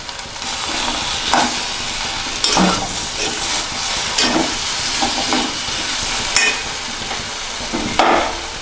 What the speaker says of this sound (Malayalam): വെളിച്ചെണ്ണ ഒഴിച്ച ശേഷം നമുക്കൊന്ന് നന്നായി ഇളക്കി ഒന്ന് ചൂടായ ശേഷം അല്പം കറിവേപ്പില ഇട്ട്